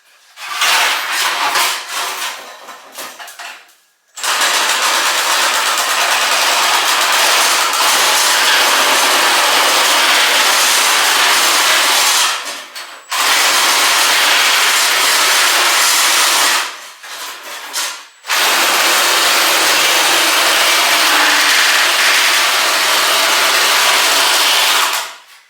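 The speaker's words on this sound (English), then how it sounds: "just my trimmers, my Milwaukee trimmers, which are brilliant" Milwaukee power trimmers cut through car body panel metal, producing a loud, harsh, continuous grinding and shearing noise in long runs separated by short pauses.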